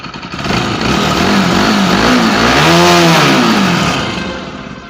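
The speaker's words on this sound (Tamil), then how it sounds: "இன்ஜின் சவுண்டும் ஸ்மூத்தாக இருக்குது" A liquid-cooled Bajaj NS200 motorcycle engine idling smoothly close by, then revving up and rising in pitch before easing back down, loud and steady.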